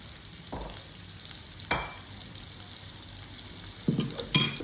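Garlic dropped into a hot pan sizzles softly against a faint background hiss, with a few sharper stirring scrapes and crackles near the end.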